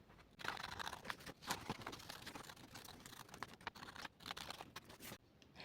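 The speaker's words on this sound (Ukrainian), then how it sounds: "і починаємо вирізати." Scissors cut through paper during a children's craft lesson, a steady run of close, crisp snipping and crunching strokes with brief pauses, no voices heard.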